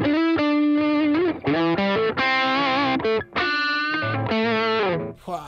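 An electric guitar plays through an amp with light, transparent overdrive, giving a loud, sustained run of chords and single notes with brief gaps and a warm, slightly gritty grain.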